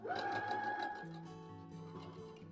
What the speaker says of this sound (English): use the line on my presser foot and on my sewing machine to sew a scant 1/4 inch seam